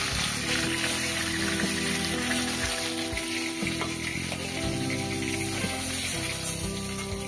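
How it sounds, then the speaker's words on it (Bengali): Boal fish heads frying crisp in hot oil in a kadai, a steady dense sizzle and crackle running the whole time with a few stirring clinks, close and fairly loud, no talking. "তো শেষে মাথাগুলো ভেজে নিলাম, বেশ কড়া কড়া করে ভেজে নিয়েছি।"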